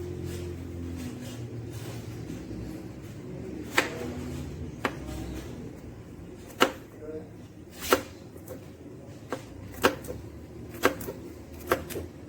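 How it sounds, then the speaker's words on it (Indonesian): A knife finely slices garlic on a cutting board, sharp irregular chops ringing out over a steady low background hum and faint kitchen noise, with no talking. "Ini bawang putih ada yang diiris halus"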